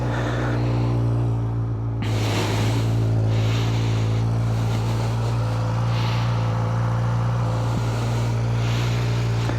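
Suzuki GSX-R 600 motorcycle engine with stock exhaust, a steady low idle hum with strong harmonic drone after starting, continuous and close, no talking.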